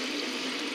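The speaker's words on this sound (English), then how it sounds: "it is putting some water into my sump" Float valve of an auto top-off system adding freshwater into a reef tank sump, a brief steady splashing pour of running water, close and continuous.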